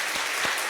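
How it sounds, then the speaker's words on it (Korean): Church congregation applauding to welcome an opera company director during a Sunday worship service, a steady wash of clapping throughout the brief moment. "우리 박수로 환영하겠습니다"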